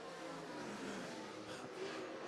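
Winged sprint cars race around the dirt oval at USA Raceway in an ASCS Southwest Region main, a steady, dense engine roar held at a distance with no voices over it.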